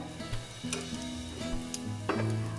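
Masala roasting in oil in a pan for an eggplant curry, with a steady low sizzle and a few clicks and scrapes as a spoon stirs it, close up.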